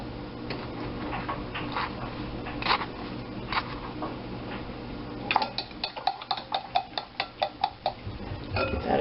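Metal utensil scraping bits of garlic from a pan while making French garlic soup, a quiet kitchen hum first, then a run of sharp rhythmic clinks and scrapes near the end.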